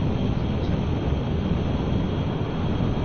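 Rocket engines roar in Kerbal Space Program on PS4 during the launch of a spaceplane, a dense, unbroken broadband rumble with wind noise mixed in and no variation across the few seconds.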